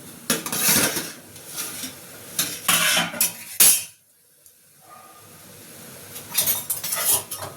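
Metal utensils scrape and clink against a pan while lifting cooked momos out, in several clattering bursts over a faint sizzle, then a near-silent pause before more scraping resumes.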